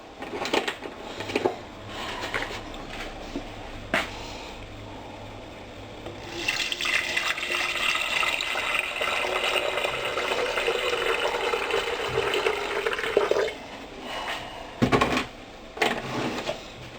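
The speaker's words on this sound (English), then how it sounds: "that's now filled up with white vinegar" White vinegar pours into a container to cover limescale, a steady liquid rush that swells in the middle for several seconds, framed by quieter handling noises and a few sharp knocks.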